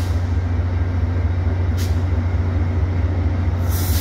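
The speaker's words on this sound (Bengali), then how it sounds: "ট্রেনটি থেমেছে" A Metra local train stands at a station platform while its engine idles in a steady low rumble. Brief bursts of hiss from the air brakes stand out near the start of the stop and again at its close.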